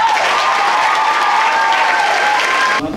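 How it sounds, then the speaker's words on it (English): An audience at a high school spring band concert claps loudly and continuously, a thick wash of applause that holds steady before cutting off abruptly near the end. "Another round of applause for them."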